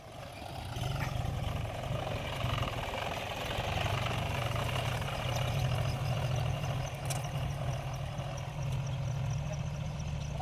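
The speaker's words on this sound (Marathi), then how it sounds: "ए वळव रे ट्रॅक्टर चल घे दुसरं तास" A farm tractor's engine runs at a steady idle, a constant low, throbbing rumble that stays level throughout at moderate distance, with no voices.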